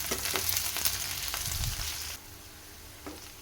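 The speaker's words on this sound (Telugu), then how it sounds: "ఇప్పుడు ఆనియన్ ముక్కలు వేసేసుకోవాలి వేసి ఫ్రై చేయాలి ఇలా ఒకసారి మొత్తాన్ని కలిపేసేయాలి" Onion pieces fry in a pan for red chili chutney, giving a steady close sizzle with a few stirring clicks. The sizzle drops quieter partway through.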